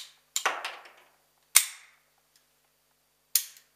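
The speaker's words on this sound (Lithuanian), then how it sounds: "pertaisyti ginklą ir tęsti šaudymą" Rifle shots fired during a Lithuanian Army weapon handling test, three sharp, loud reports spaced apart, the first followed by quick echoing cracks, with silence between.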